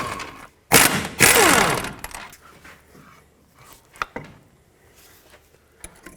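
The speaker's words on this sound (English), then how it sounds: "Take off this 18mm bolt as well as this one up here, and that will release the caliper with the bracket" Ratchet and wrench work on 18mm brake caliper bracket bolts on a 2007-14 Chevy Silverado front end: two loud bursts of metallic cracking and rattling early on, then scattered clicks and clanks of tools and parts.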